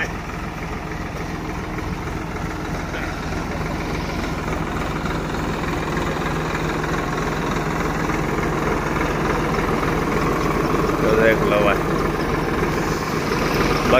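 A Swaraj 744 XT tractor fitted with a spray pump machine runs steadily at a low, rumbling idle, continuous and fairly close, with faint intermittent higher noises over it.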